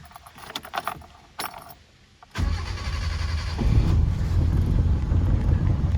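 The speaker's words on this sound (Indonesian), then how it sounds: "langsung saya hidupkan untuk mesinnya." A 1994 Suzuki Katana Corsica's engine cranks and starts, preceded by keys jangling, then settles into a steady, close, loud idle with some wind noise.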